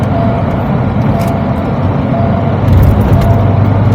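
A JAC T9 Hunter double-cabin pickup truck in sport mode accelerates with a steady, loud engine roar that swells slightly toward the end, heard from inside the cabin.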